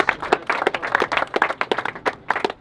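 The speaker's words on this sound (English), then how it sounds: "give them a big clap, round of applause" A small group claps for football trialists after a match, uneven individual claps in quick irregular bursts, close and fairly loud, with no talk over them.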